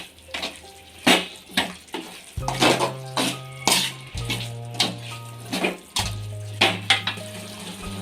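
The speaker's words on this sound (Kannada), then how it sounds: "ನುಗ್ಗೆಕಾಯಿ ಹಾಕಿ ಚೆನ್ನಾಗಿ ಫ್ರೈ ಮಾಡ್ಕೊಳ್ಳಿ" Moringa drumsticks frying in a pan while being stirred, with repeated clanks and scrapes of a spatula against the metal over a soft sizzle, and a low steady hum joining partway through.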